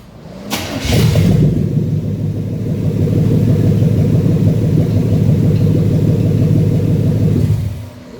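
A Cadillac Coupe DeVille engine revs up and holds a loud, deep rumbling exhaust note close by for about seven seconds, then drops away.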